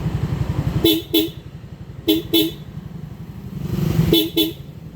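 A Hella car horn on a Suzuki Smash F.I motorcycle blasts in quick double toots, three pairs spaced a second or two apart, loud and close over a steady idling engine.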